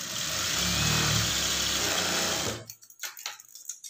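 Sewing machine stitching a blouse runs in a steady loud whirring buzz for about two and a half seconds, then stops, followed by a few faint clicks and handling sounds.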